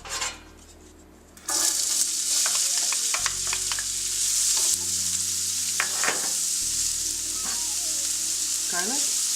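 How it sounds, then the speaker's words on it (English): Onions, garlic and sage sizzle steadily in sausage oil with added olive oil in a pan for a pasta with sausage and pumpkin sauce, loud and continuous with occasional stirring scrapes and utensil clinks, over soft background music. "I want to cook up the onions and the garlic and the sage and get those nice and golden brown too"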